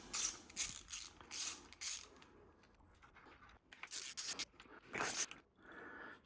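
A ratchet clicks in quick bursts while loosening 13 mm bolts on the front lower timing cover of a BMW S62 engine, with pauses and faint scraping between the close, fairly quiet runs.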